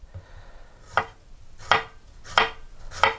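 A knife chops a bell pepper into small cubes on a cutting board, giving four crisp, evenly spaced thuds close by and fairly quiet, with no talking.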